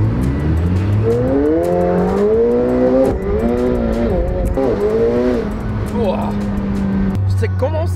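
A McLaren 720S supercar accelerates hard and starts to drift, its engine note rising in strong sweeping harmonics and then settling, with people talking excitedly over it throughout.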